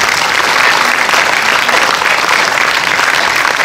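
Sustained, dense applause from a full audience at a Paris film premiere, loud and steady throughout with no pauses, a crowd clapping in unison in a packed cinema hall.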